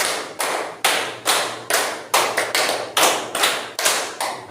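A class of students claps hands together in a steady counting rhythm, about a dozen loud, crisp claps in a regular pattern that repeats, close and clear with no talking.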